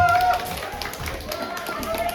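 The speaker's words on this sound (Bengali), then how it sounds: "অনুভূতির জন্য জোরে হাততালি দিই" A crowd claps loudly at a children's award ceremony for a prize winner, a dense, steady patter of many hands filling the room, with background voices mixed in.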